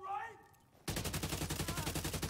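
Rapid automatic gunfire from the shooter game The Division 2 begins abruptly after a short stretch of quiet voice and continues as a steady, loud stream of evenly spaced shots.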